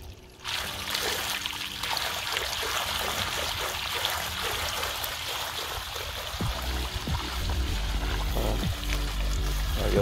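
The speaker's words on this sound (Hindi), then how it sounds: "मुझे लगता है पाइप गंदी थी, ये पानी तो बिल्कुल साफ आता है" Water runs steadily from a household pipe during a house setup, a continuous trickling and pouring stream that grows louder and splashier toward the end as pressure rises, with no talking over it.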